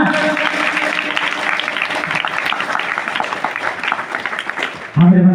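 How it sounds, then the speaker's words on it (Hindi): A church congregation at a spiritual healing prayer meeting clapping loudly together, a sustained dense burst of applause that ends abruptly as a voice begins speaking. "जोर से ताली बजा"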